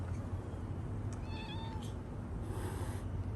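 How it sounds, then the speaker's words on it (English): A cat gives a single short, mid-pitched meow against a quiet background hiss, followed by a faint fainter sound, moderately close and with no talking. "Come here, kitty kitty."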